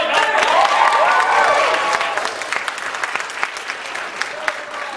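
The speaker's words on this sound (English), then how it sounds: "Give a round of applause." A convention panel audience at UCon 2011 with Doug Walker bursts into loud, dense applause with some cheering, then gradually thins out into scattered claps.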